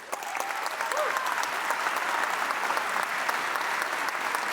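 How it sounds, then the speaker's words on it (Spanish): Sustained audience applause from a crowd of southern macrozone workers at a salmon industry summit presidential debate in Chile, steady and dense throughout with no voice over it. "Un aplauso por ello."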